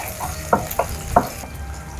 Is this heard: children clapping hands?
no